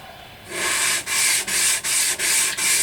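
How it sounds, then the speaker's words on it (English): Steady back-and-forth sanding of a Tanglewood dreadnought guitar saddle on a flat sanding surface: about six loud, even rubbing strokes separated by brief pauses, close up and with no voices. "roll it up and down on a flat sanding surface"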